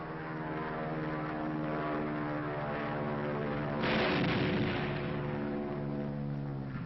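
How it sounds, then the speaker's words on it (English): WWII military training aircraft attacking a dummy target, a continuous droning propeller engine roar that swells into a louder burst of rushing noise partway through, heard on old film sound with no speech. "the pilot shoots his bombs into the target and takes evasive action"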